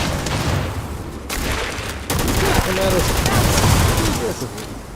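Explosive rounds fired by the companion Sarah in Starfield: a loud, continuous run of overlapping blasts and gunfire with booming low end, and a person talking faintly underneath.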